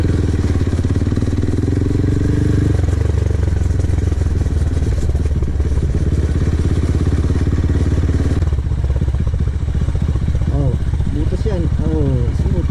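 A sports bike motorcycle on the road, its engine a loud, steady drone close up with shifts in pitch as it rides, while a rider talks over it.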